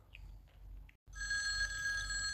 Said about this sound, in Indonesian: Oh, telepon berbunyi.